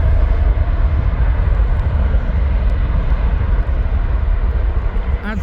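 A TUI airliner coming in to land at East Midlands Airport, a loud steady jet engine roar with deep rumble that holds throughout, close and continuous.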